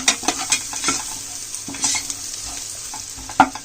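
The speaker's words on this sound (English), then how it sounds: "you'll have to add the onions and fry it for about 2-3 minutes until it turns brown" Onions frying with eggs in a pan for egg biryani, a close sizzle with repeated spatula scrapes and taps against the pan in an irregular rhythm, without speech.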